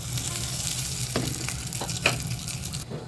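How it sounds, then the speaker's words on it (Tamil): Spices, asafoetida and curry leaves, crackle and sizzle in hot oil while tempering garlic chutney, a dense steady hiss with a few sharper pops and stirring clicks, close and fairly loud. "சட்னி தாளிக்க போகிறேன்"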